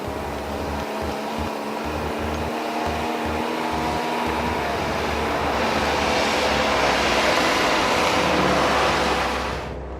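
An Iltis military vehicle engine pulling away in first gear: a steady engine hum that swells louder and rougher as it moves off, then fades at the end.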